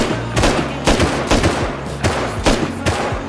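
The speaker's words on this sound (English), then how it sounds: "Somebody's shooting with Python" Python revolver gunshots in the video game Rust, a rapid series of loud, sharp cracks in an irregular rhythm, several shots each second, with no talking over them.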